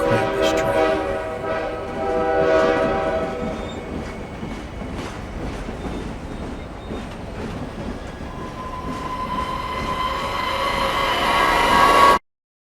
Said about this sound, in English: Tonight you're going to see the Krampus train.